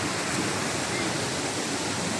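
Water rushes steadily at Bukal Falls in Liliw, Laguna, a dense, even roar of falling and flowing water heard up close, with no break and no voices over it.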